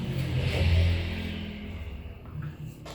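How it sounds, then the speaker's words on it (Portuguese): A motorcycle passes by outdoors with a loud rising engine rumble that peaks early and then fades as it moves off, no talk over it. "Esperemos a moto passar"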